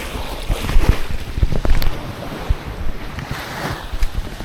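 Strong sea waves and gusting wind buffet a fishing boat out on the water off Tagum, Davao del Norte, a continuous rough wash with heavier surges and wind noise across the microphone, no voices.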